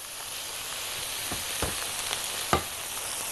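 Shish tawook and sausage fry with onion in a pan, giving a steady close sizzle broken by a few sharp crackles and pops, with no voices.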